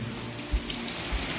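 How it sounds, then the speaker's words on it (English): Steady outdoor rain hissing as a dense even wash, with a couple of soft low thumps, moderately loud and without talk. "Glad you're not in the rain."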